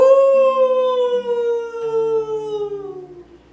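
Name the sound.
wolf howling, theatrical sound effect in Macbeth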